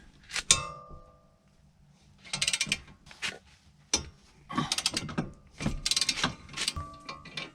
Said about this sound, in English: So let's undo the bolts.